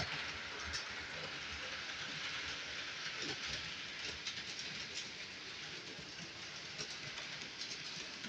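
A model train runs on a model railroad layout, giving a steady whirring rumble with faint rhythmic clicking of wheels over track joints, constant and fairly close, with no talking.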